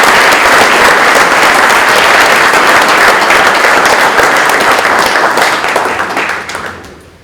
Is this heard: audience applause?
yes